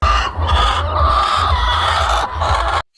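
A flock of about five hundred farm chickens clucks and murmurs continuously nearby, a dense, busy chorus of overlapping calls with a low background hum, cutting off abruptly.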